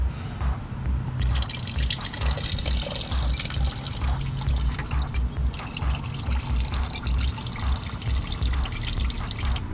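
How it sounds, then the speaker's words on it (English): Coolant from a first-generation Toyota 4Runner radiator drains in a steady, continuous pour with dripping and trickling, fairly close and even throughout, with no talk. "So we got more coolant leaking out or draining from the radiator"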